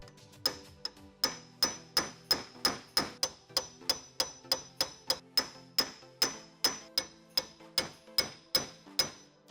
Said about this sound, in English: I've just got a flat punch and a hammer, and I should be able to knock this thing right off.